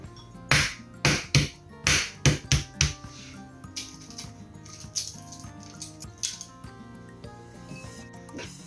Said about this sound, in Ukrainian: Яйця нарізую кубиками.